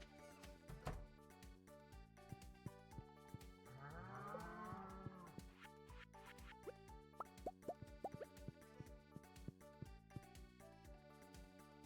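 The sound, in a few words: cow mooing in the video game Stardew Valley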